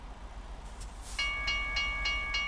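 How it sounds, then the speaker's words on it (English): A two-car passenger train rolls past in a truck driving game, its horn sounding in steady repeated chords over a low rumble. "it's a passenger train with only 2 cars"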